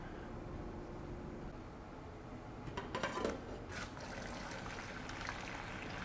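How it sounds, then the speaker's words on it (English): Water from a pot of boiled potatoes drains in a steady low trickle and pour, with a brief clatter of pot and colander near the middle, for mashed potatoes. "We're gonna start by draining the water."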